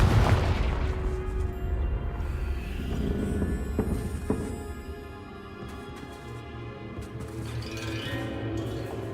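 Confringo fire spell exploding in Hogwarts Legacy, a deep booming burst at the start that fades into a rumbling tail with a few smaller cracks and pops afterward.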